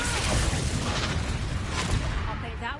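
Confringo fire spell in Hogwarts Legacy bursts with a loud, dense rumbling explosion that stays broad and sustained, with faint crackling trailing through it.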